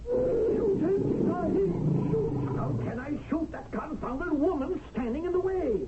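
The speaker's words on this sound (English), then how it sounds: "The tiger is prowling around down there." Tiger roaring from below in a dramatic film scene, a series of rumbling, drawn-out roars and snarls filling the whole stretch, loud and close, with orchestral or voice-like swells mixed in.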